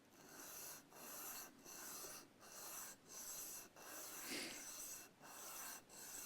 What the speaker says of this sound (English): and then I will keep on sanding.